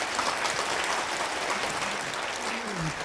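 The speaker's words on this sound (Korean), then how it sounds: "다시 한번 수고해 주신 유성진 교수님께 큰 박수 부탁드립니다" An audience applauds a professor at a university entrance ceremony, a dense, steady wash of clapping held at even loudness throughout, with a faint voice rising near the end.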